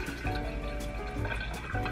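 Brewed iced coffee poured from a container into a jar makes a continuous close liquid fill with gurgling and splashing that rises and falls in short surges.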